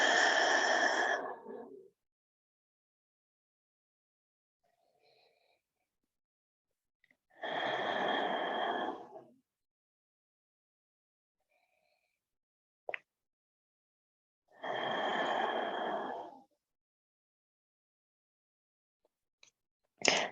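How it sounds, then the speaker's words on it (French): Slow, deep breaths during a yin yoga eagle pose, three long airy exhalations spaced several seconds apart with near silence between, close and clear. "On a 3 dernières respirations ici."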